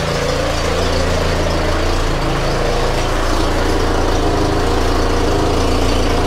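A Volvo 480 2.0 litre engine runs after a long restoration, making a loud, close, steady idle with a low rumble and an exhaust leak near the manifold.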